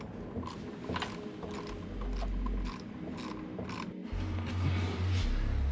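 Close ratchet wrench clicks and clacks while the negative battery terminal is tightened on a Subaru WRX STI in a garage after a starter replacement, with rhythmic pawl clicking in short bursts and some mechanical knocks.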